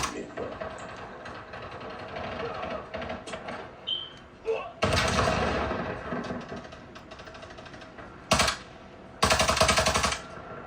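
Automatic gunfire in the Call of Duty video game: rapid machine-gun bursts, some long and sustained, some short, close and loud, broken by brief pauses.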